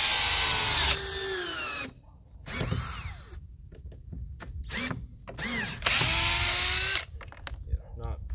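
Milwaukee and Ryobi cordless drills drive 3-inch screws in loud whining bursts, one long run at the start and another later, separated by short clicks, handling noises and brief talk.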